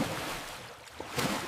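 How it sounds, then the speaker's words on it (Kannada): A cartoon goat leaps into a well of water, making a brief, full splashy wash that fades without any voices. "ಮೇಕೆ ಬಾವಿಯೊಳಗೆ ಜಿಗಿಯಿತು."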